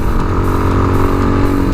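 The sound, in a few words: Honda clone air-cooled engine of Tao Tao TBR7 dirt bike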